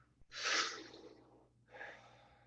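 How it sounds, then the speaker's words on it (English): One deep, forceful breath rushes in and then a softer exhale follows during a guided breathing practice, close to the microphone and unaccompanied by speech. "Focus on breathing in and letting go"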